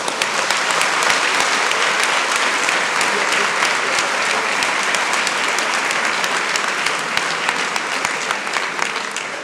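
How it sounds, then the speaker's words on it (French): Dense, sustained applause from a large conference audience honoring a Nobel Peace Prize event guest, steady and loud throughout with no speech over it. "Et là, on peut l'applaudir."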